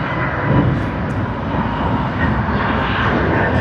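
A Boeing 747 roars on takeoff at Sydney Airport, its jet engines giving a loud, steady, broadband rumble that holds throughout without talk.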